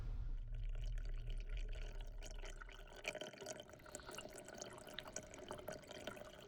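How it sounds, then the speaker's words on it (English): Water gurgling as it runs down a mountain into a waterhole, faint dripping and trickling at night, quiet and continuous. "The gurgling you can hear is the water running down the mountain."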